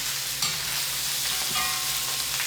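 Corned beef hash with spinach frying hot in a pan, a steady even sizzle with occasional stirring scrapes, close and continuous with no talk.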